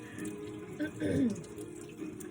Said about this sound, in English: I'm gonna just rinse my oregano here to get any little buggies off